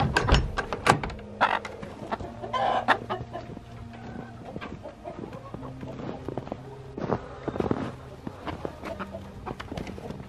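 Chickens cluck repeatedly on a snowy day in short, overlapping bursts, with occasional louder calls and soft shuffling around them, no talking.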